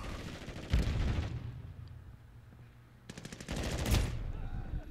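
Rapid automatic gunfire in a Call of Duty match, a hand-held weapon firing in two short bursts of fast repeated shots, moderately close amid general game noise.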